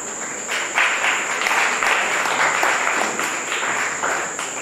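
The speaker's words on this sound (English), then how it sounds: "Please a big round of applause for DNC" Loud, steady applause from a crowd at a closing ceremony, a continuous wash of clapping close up with a constant high tone running beneath.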